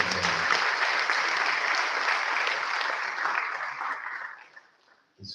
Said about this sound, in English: Give him a round of applause, ladies and gentlemen.